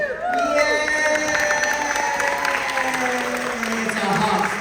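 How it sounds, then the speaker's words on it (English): A convention panel audience applauds and cheers loudly and steadily, with whoops and excited voices on top of the clapping throughout. "Stop applauding."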